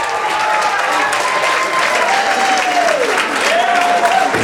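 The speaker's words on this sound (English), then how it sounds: "Big round of applause, let's hear for Mary" Wedding guests applauding after a maid of honor's toast, a dense, loud wash of clapping from a crowd with a voice talking over it.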